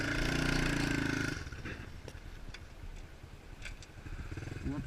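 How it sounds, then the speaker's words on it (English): A pit bike in fourth gear attempts a burnout: a loud, strained engine roar for about a second, then the revs collapse into a low, uneven, sputtering rumble with clattering noises and a brief rise at the end. "Let's just do a big fourth gear burnout"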